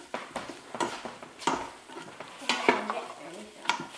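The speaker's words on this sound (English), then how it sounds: "If you wanna get a wooden spatula and you hear that sizzling every once in a while" Minced garlic sizzles in a soup pot on the stove while a wooden spatula stirs it, giving repeated scraping strokes and bursts over a steady light frying hiss, close and moderately quiet.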